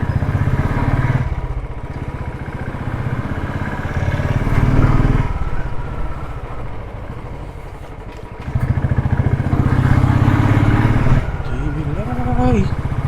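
A BS3-standard motorcycle engine runs with a steady, punchy thrum that rises and falls in waves, loud and close throughout.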